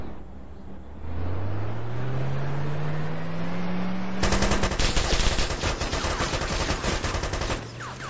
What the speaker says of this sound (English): Machine gun shots here from Vitas.